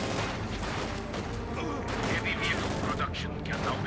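Gunfire from snipers and machine guns in a Company of Heroes 2 battle, dense bursts of shots and booms rolling continuously under a commentator's voice.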